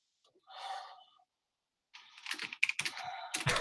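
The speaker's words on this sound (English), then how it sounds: "Now you're typing?" Someone types on a computer keyboard in a quick, close burst of clicking keys that follows a brief breathy sound and a pause.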